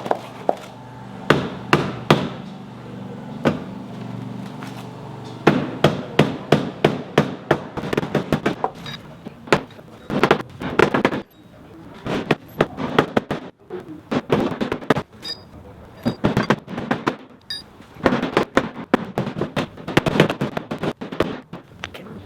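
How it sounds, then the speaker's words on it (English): Loud metallic hammer strikes bashing Porsche 986 Boxster body metal ring out in irregular bursts, some rapid clusters and some single heavy blows, close up with no talking. "I'm going to see if I can get a hammer and bash it back out"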